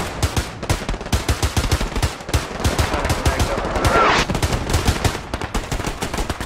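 Gunfire rattles through a Hell Let Loose match, loud dense machine-gun bursts and rifle shots overlapping almost continuously with no pause and no voices.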